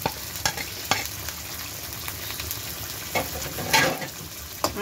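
Afghani egg korma with cream fries and is stirred in a pan: a steady sizzle broken by several sharp scraping and clattering strokes of the spoon, close and alone.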